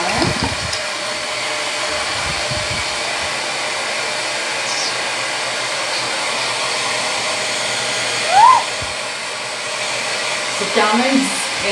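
A hair dryer blows on freshly dyed pink hair, a loud, steady airy roar that holds for the whole stretch, with a few brief thuds and a short squeak near the end.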